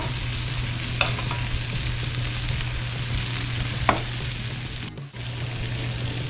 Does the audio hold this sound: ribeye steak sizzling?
yes